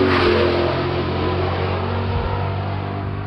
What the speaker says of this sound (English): why is there always somebody with some stupidly loud car or motorcycle?